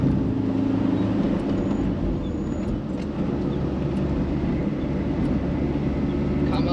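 Inside a Transit van driving the Nürburgring in low gear, a steady loud engine drone and road rumble runs throughout with no break.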